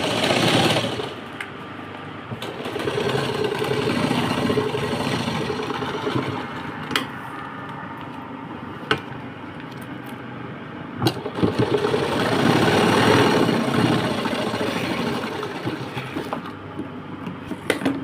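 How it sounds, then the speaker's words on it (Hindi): Sewing machine stitching the bottom seam of a handmade purse, a close continuous mechanical whirring in long runs with brief pauses and small clicks between bursts, no talking. "अब इसका निचला हिस्सा जो है इसको हम स्टिच करेंगे।"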